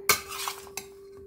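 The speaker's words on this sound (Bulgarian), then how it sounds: "добавям и граха и киселите краставички и отново хубаво обърквам" A spoon stirs Russian salad with peas and pickles in a bowl, making a few soft, wet scraping and clinking sounds over about a second. Nearby and quiet, with no talking.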